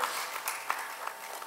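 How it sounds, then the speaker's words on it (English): Faint, distant applause from a convention panel audience, a short patter of scattered clapping. "Big applause for Winston Francis."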